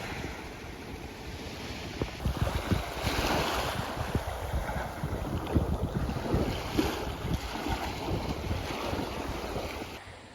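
Local fisherman's boat heading out to sea off Langkawi, a low engine rumble mixed with wind buffeting the microphone and waves washing, continuous and rough throughout with no talking.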